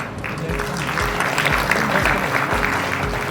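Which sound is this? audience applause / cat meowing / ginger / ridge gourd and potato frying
audience applause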